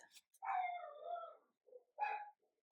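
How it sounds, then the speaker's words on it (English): Dogs bark in a quiet indoor setting: a few faint, somewhat distant barks and a drawn-out yelp, separated by short silences. "I'm sorry about the dogs barking"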